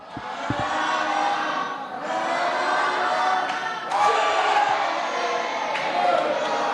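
A large wrestling crowd at a TLC match roars and cheers steadily throughout, a dense wash of voices with a few sharp thumps early on.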